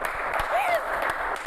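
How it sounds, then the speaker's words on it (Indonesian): Audience applause during an Indonesian school talk show, a steady wash of clapping lasting the whole moment with a faint voice tone rising briefly over it. "Kita kasih tepuk tangan dulu."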